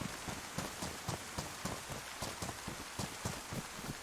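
Steady rain falling in the video game DayZ, a dense continuous hiss with scattered patters and drops, moderately loud and unbroken, with no voices over it.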